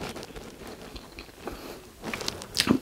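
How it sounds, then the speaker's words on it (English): Crunchy air fryer chicken and rice with vegetables is bitten and chewed up close, a few faint soft crunches building to louder crisp bites near the end. "Nice crunch coming through from the vegetables and the chicken."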